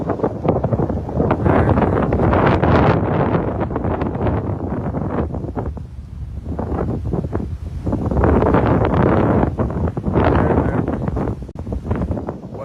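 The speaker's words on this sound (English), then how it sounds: "it's very, very windy. As you can see." Strong, steady wind buffeting a microphone, a loud broadband roar that swells and eases in gusts throughout, with no other clear sounds.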